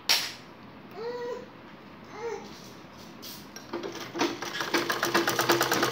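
A sewing machine stitches lace onto a baby frock made from waste cloth, its rapid, rhythmic chatter starting partway through and growing louder, after a few brief vocal sounds near the start.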